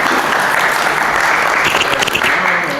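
An audience claps continuously and loudly at a games festival event, a dense, even applause that fills the whole stretch.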